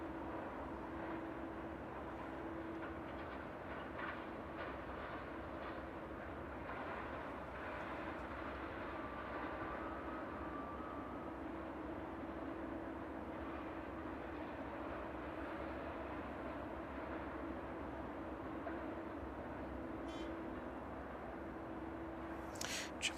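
A Boeing 747 approaching East Midlands Airport in the evening, its steady distant engine roar forming a continuous low rumble throughout, with no talk.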